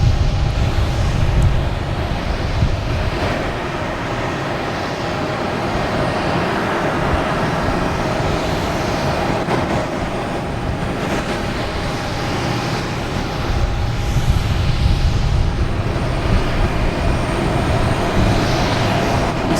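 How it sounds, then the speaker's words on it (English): United Airlines Airbus A321neo arriving from Chicago on approach to land at Boston Logan, a loud, steady jet engine roar held throughout with broadband rumble and a faint tonal whine, slight swells near the start and end. "next coming in is United Airlines coming in from Chicago. A A321neo,"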